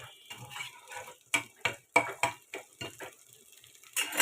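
Green chillies frying in a pan as a tempering, a steady soft sizzle with a series of sharp, close spatula scrapes and taps against the pan, louder bursts near the end.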